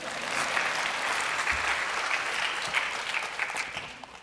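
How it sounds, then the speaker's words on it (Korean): A church congregation gives a sustained round of applause during a Sunday sermon, a soft, even patter of many hands that holds steady and begins to thin toward the end. "박수 한번 좀 쳐주시죠"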